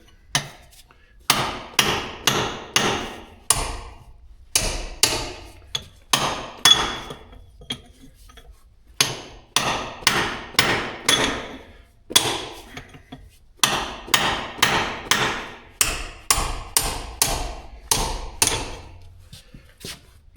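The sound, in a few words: hammering a chisel to free axle parts off keyways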